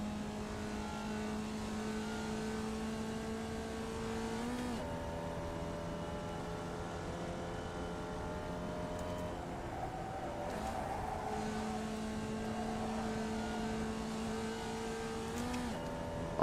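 A Formula Vee race car in the iRacing game, its engine droning steadily at high revs with a few brief dips and pitch jumps as gears change, loud and continuous with no talking.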